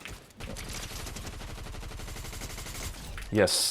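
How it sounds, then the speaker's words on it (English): Rapid SMG gunfire from a first-person shooter game, a loud sustained burst of fast, even shots running nearly the whole time, with a brief word spoken at the start. "Hold on, let me get my SMG."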